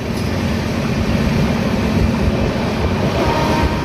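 A high-speed train hauled by a WAP7 electric locomotive runs between Vijayawada, Gudur and Renigunta, giving a steady, loud onboard rumble with dense low-end roar and rail noise throughout.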